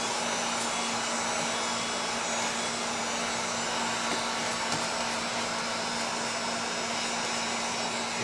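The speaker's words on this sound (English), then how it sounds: "The key here is you don't want to leave your heat gun in one spot for too long." Heat gun blowing steadily on tint film being shrunk onto the rear window of a 2017 Chevy Cruze, a continuous close airy whoosh with a low motor hum that holds unchanged throughout.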